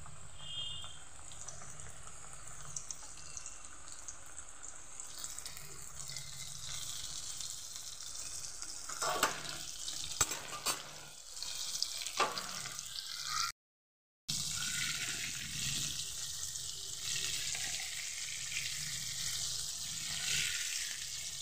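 Coated chicken pieces frying in moderately hot oil in a kadai over a low gas flame, giving a steady, close sizzle that runs for the whole clip, with a short break in the middle and no talking.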